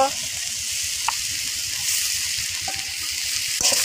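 Ginger and cumin paste sizzles steadily in a pan with gima shak greens, a close, continuous frying hiss with a few soft clicks of stirring.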